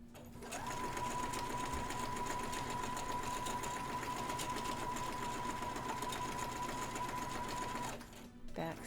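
Sewing machine stitching a waistband seam at 5/8, a steady continuous mechanical whirr lasting about seven seconds before stopping, close and faint, with no talking over it.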